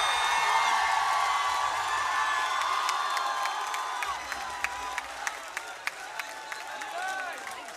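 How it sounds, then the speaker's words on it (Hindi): An audience at the Pakistan Literature Festival applauds and cheers, loud at first and then thinning to scattered claps and whoops as the noise fades. "अली ज़रियून, तालियां आप पे।"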